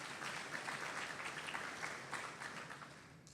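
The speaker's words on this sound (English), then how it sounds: "Can we give Congressman Rogers a round of applause" A crowd applauds Congressman Rogers at a state broadband event in eastern Kentucky, a dense, steady burst of many hands clapping together for the whole stretch without a pause.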